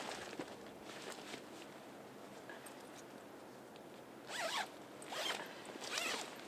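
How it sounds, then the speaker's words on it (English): A sleeping bag is zipped closed in a winter camping setup, with a few soft fabric rustles first, then three quick zipper pulls near the end, close and crisp. "And just zip that up inside there."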